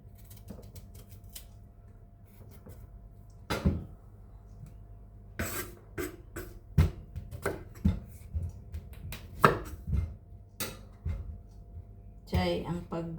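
A knife cuts through sweet potato (kamote) in a home kitchen, with sharp, irregular cutting clicks that become denser near the end. Talk is heard between the cuts.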